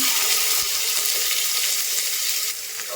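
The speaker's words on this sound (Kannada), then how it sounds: "ಕರಿಬೇವು ಹಾಕ್ತಾ ಇದ್ದೀನಿ ಫ್ರೈ ಮಾಡ್ಕೊತೀನಿ" Onion frying in hot oil with cumin and mustard seeds, a steady close sizzle with faint crackles and a few light spoon taps, no voices.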